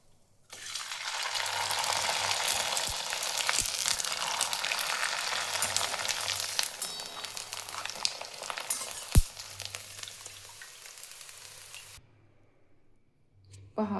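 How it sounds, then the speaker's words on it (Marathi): Sun-dried sabudana (sago) papad frying in hot oil, a loud continuous crackling sizzle that starts abruptly, holds for several seconds with a sharp click partway through, then cuts off to near silence. "पापड चांगले वाळून घेतलेले आहेत. आता तळून घेऊया."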